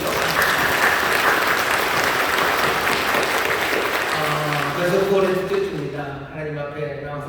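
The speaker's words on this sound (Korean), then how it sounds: "우리 격려하며 박수해 주시죠." A church congregation at a Sunday service breaks into sustained, dense applause that carries on steadily, then thins as a few voices and tonal sounds rise near the end.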